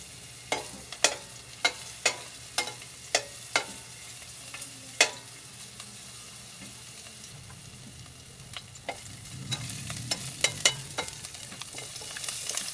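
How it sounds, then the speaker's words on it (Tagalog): Ingredients for sinigang are sautéed in a little cooking oil, with a soft, steady sizzle under a run of sharp, evenly spaced spatula taps against the pan, then a louder frying hiss near the end. "Konting mantika lang para may panggisa tayo."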